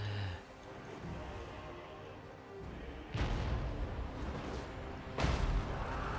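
Artillery in the video game Total War: Warhammer 2 fires two heavy booming shots a couple of seconds apart over a low battlefield rumble, fairly faint overall.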